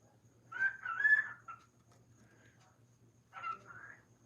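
Bernie, a pet bird, calls in short squawking bursts, a longer call followed after a pause by another, fairly close in a quiet indoor room with a faint low hum.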